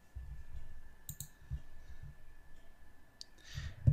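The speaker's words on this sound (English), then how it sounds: "here we're going to click on the first option, Internet Explorer Downloads, Windows Help" A computer mouse clicks a few times while choosing an Internet Explorer download option in Windows, light, close clicks in a quiet room with a faint steady hum.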